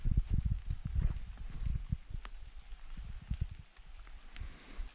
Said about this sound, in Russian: Дождь, правда, все идет.